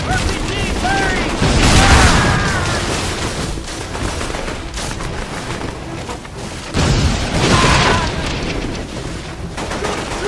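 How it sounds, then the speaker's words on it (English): RPG rocket launcher fire in Mercenaries 2 on Xbox 360 amid chaotic battle, loud booms and blasts mixed with rattling gunfire, two heavy surges of explosive noise, shouted voices audible beneath the combat. "RPG firing!"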